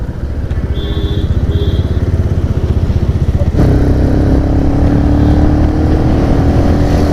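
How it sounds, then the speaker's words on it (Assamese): A Bajaj Pulsar 180F motorcycle on an evening ride, its engine droning loud and steady from start to finish. The tone shifts into a fuller, heavier roar partway through, and short high tones sound early on. "মোৰ এক্সজষ্টটো ন ফুটা হৈছে মাজে মাজে"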